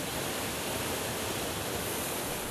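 Waterfall in Nyungwe forest, Rwanda, a steady broadband rush of falling water that holds constant and fairly loud throughout, with no voices over it.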